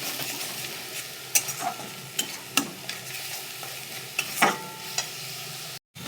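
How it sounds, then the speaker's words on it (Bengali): Spice paste and ground onion paste being sautéed in oil for a fresh rohu fish curry, a soft steady sizzle broken by sharp spatula scrapes and taps against the pan, close and fairly quiet, no voices. "আমি মশলাটাকে যতক্ষণ তেল ছাড়ে কষিয়ে যাব"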